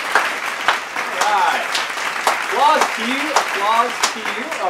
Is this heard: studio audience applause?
yes